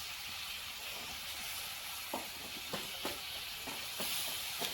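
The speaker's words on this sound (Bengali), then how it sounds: "এবার আমি এই যে পুঁই মিটুলি দিয়ে দেবো।" Tender pui mituli (Malabar spinach stems) drop into vegetables already frying with salt and turmeric, giving a quiet, continuous hiss with several soft scraping thumps and rustles from the ladle.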